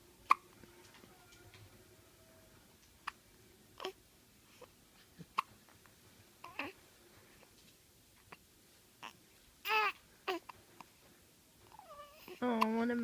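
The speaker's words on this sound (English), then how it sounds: "Hiccups are so cute." A cat has a run of small, sharp hiccups spaced every second or so in an otherwise quiet room, and a person speaks softly near the end.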